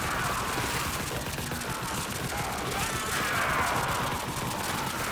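Sustained weapon fire with the trigger held down in Warframe, Jade build, a dense continuous roar of rapid shots and energy blasts filling the whole stretch at steady loudness with no breaks.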